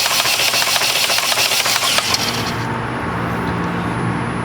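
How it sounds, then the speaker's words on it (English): A built four-cylinder car engine with a turbo is cranked with the key and clutch to prime the oil system. A rhythmic, chugging crank lasts about two seconds, then settles into a steadier, continuous mechanical drone. "Shannon, go ahead and hit it, the key, and press the clutch."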